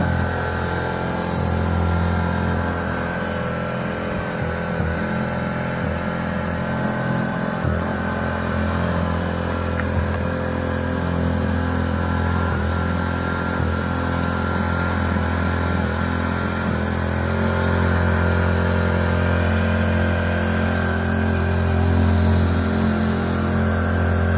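A new four-stroke outboard engine running on a boat, a steady close mechanical hum and drone that holds for over twenty seconds with slight swells in pitch and no talking.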